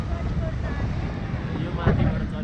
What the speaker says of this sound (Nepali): चिसो चिसो सरर हावा चल्यो मुडेमा